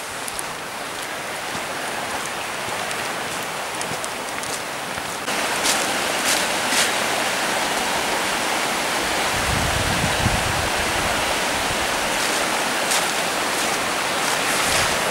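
A river flows beside a countryside footpath near a stile, a steady, dense rushing wash that grows slightly louder partway through, with a brief low rumble later, no talk over it.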